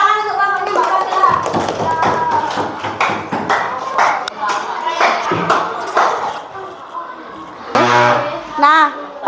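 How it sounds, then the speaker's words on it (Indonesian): Classroom applause for a student after her presentation, a burst of many hands clapping close by, with children's voices chattering over and after it. "Tepuk tangan untuk kamu Mbak Kamila"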